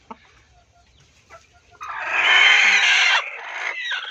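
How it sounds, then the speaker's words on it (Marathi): Farm hens clucking and calling, quiet scattered clucks at first, then a loud sustained squawking burst up close before settling into softer calls. "आणि काही कोंबड्या आपल्या बाहेर आहेत, मस्त झाडाखाली आराम करतायत"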